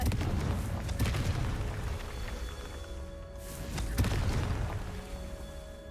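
Booming spell blasts from the Confringo fire curse in Hogwarts Legacy, a loud impact near the start followed by another burst around the four-second mark, over continuous rumbling game background.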